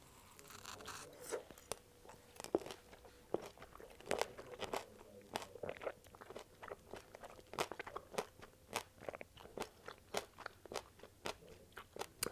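Crunchy candy-coated fruit being bitten and chewed up close, a series of sharp crisp crunches and crackles in an irregular rhythm, quiet and intimate with no talking.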